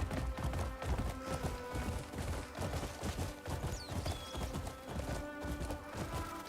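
Horse hooves clip-clop in a quick, steady galloping rhythm in a video game desert setting, fairly loud and continuous over a dense ambient bed.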